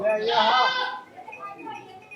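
A goat bleats close by in a wavering, drawn-out call, followed by quieter fainter bleats or murmuring.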